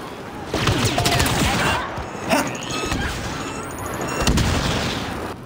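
Gunfire in the Star Wars Battlefront video game, with repeated blaster-style shots and crashes running through the whole stretch, loud and busy, with a rising electronic whine partway through.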